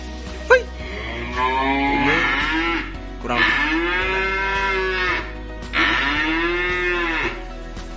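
Cattle and calves at a livestock sale give three long, loud mooing calls in turn, each drawn out for over a second with short pauses between, over a low steady background hum.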